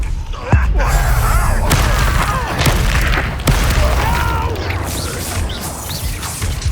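A fiery Incendio spell blast in Hogwarts Legacy, a sharp, loud burst followed by roaring, crackling flame and booming impacts amid combat noise.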